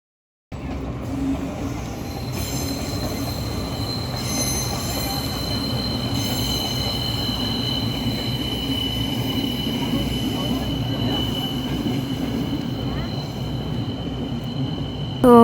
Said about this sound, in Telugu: ఇదే ట్రైన్ స్టేషన్. మేము స్టార్టింగ్లో ఇక్కడ దిగాం అండ్ ఇది ట్రైన్ వచ్చింది